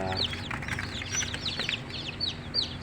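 Newly hatched chicks chirp in a brooding box, their high, rapid peeps overlapping continuously and close by over a low background hum.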